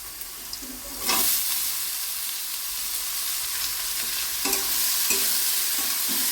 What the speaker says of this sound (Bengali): মোচাগুলো দিয়ে ভালো করে ভাজতে হবে